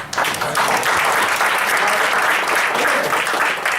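An audience bursts into loud, continuous applause to welcome a guest named Jeff, a thick wash of many hands clapping close by, steady and without pause for the whole span.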